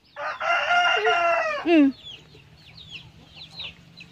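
A loud, close rooster crow in a rural backyard lasting over a second, ending in a rising squawk, followed by faint distant bird chirps.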